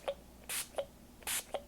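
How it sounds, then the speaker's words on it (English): Two short, hissing bursts of Distress spray stain misted onto watercolor paper, each followed by a soft click of the sprayer, repeated at an even pace and heard close up in a quiet room. "just by simply spraying, I'm going to use this distress spray stain in the abandoned coral."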